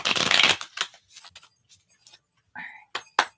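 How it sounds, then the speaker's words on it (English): Tarot cards from the Wild Offering deck are shuffled in a quick burst of crisp riffling and soft card slaps, followed by a few fainter taps and flicks of cards in a quiet room. "Now let's go ahead and pull from the Wild Offering deck."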